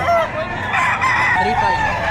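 A rooster crows loudly and close by at a livestock auction market, a drawn-out cock-a-doodle-doo with clucking and crowd murmur around it.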